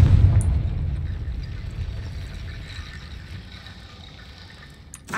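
A Confringo blasting-spell explosion in Hogwarts Legacy: a loud, deep boom at the start that rolls off into a long, fading rumble over several seconds, with a faint crackle near the end.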